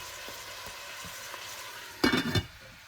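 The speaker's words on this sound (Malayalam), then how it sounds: "ചെറിയ ഫ്ലെയിമിൽ കിടന്ന് ഉള്ളി ഒന്ന് വാടിയെടുക്കും" Onions with salt sautéing over a low flame for a Kerala-style duck roast, a soft steady sizzle broken near the end by a brief louder burst of stirring or scraping in the pan.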